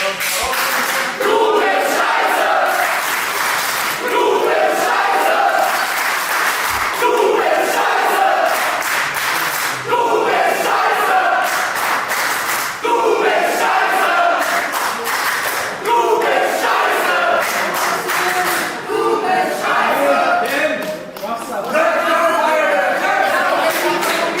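A wrestling crowd at an underground show chanting and shouting in rhythmic bursts, loud and close, with repeated chant phrases, scattered clapping and brief lulls between waves of massed voices.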